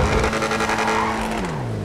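A car driven in GTA 5 revs steadily with a tire squeal or skid and an engine pitch that drops near the end, loud and continuous, with no talk over it.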